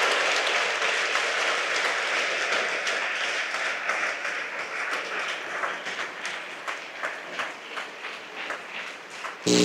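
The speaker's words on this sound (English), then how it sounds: "I would ask you again to give them a round of applause" An audience at a school ceremony marking fifty years of girls applauds the prefects, sustained crowd clapping throughout that thins into scattered claps toward the end.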